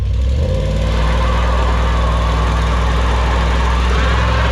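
A 2020 Mustang GT doing a one-wheel burnout in a dealership parking lot, its engine droning loudly and steadily up close with a rough, rumbling vibration.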